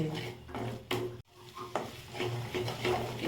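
Kothu chapati being stirred and tossed in a pan at home, with a spoon scraping and clattering against the metal in irregular strokes and a soft sizzle underneath, close and moderately loud.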